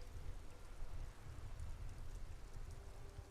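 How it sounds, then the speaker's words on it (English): Steady rain patters on a police motor carriage with white-on-blue livery in a rainy Disco Elysium street scene, a soft continuous hiss with faint low rumble, no voices. "Droplets of rain fall on the white on blue police livery of the motor carriage."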